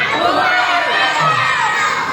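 A crowd at a Christmas community service event of the Fraternal Order of Eagles in Antipolo, Rizal shouts a loud, sustained cheer together, with many overlapping voices including children's.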